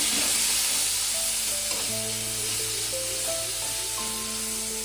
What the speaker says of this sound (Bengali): পেঁয়াজটাকে আমি মিনিট 2 একটু ভালো করে ভেজে নেব।